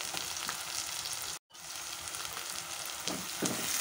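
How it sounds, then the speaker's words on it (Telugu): Onions and green chillies frying in a pan with chilli powder, turmeric and rock salt for a broad bean (chikkudukaya) curry, giving a steady close sizzle with a brief dropout and a few stirring scrapes near the end. "ఈ ఉల్లిపాయలు కొద్దిగా ఫ్రై అవ్వాలి."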